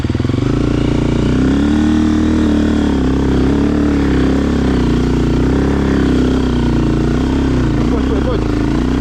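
Motorcycle engine running loud and close throughout, with a steady throaty drone and slight rises and falls in pitch, on a day out in Poiana, Romania.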